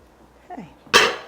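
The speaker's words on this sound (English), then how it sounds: "Now I can use the smaller strainer to pour the tea." Mint tea pours through a small strainer in a single close burst of bright splashing liquid, coming after a short stretch of faint kitchen sounds.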